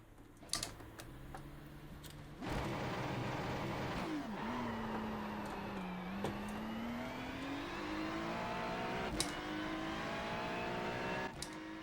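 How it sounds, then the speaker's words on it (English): A V6 turbocharged GT3 race car in the iRacing simulator, its engine droning and then revving up with rising pitch over several seconds, along with faint clicking that sounds like keyboard or controller input. "Who knew a V6 could sound this good?"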